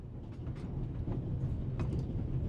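A train in The Raven: Remastered video game rolls along its tracks, giving a continuous heavy rumble with a faint rhythmic clatter from the wheels and no voices.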